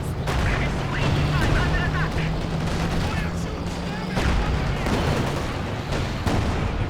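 Tank cannon fire from a Panzer and an S-35 trading shots in Company of Heroes 2, with booming battlefield blasts and scattered gunfire continuing throughout under a constant rumbling din of combat.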